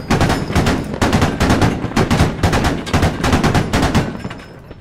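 Sustained automatic gunfire from the tactical shooter Squad, loud and close, with dense rapid bursts repeating almost without pause before tapering slightly at the end.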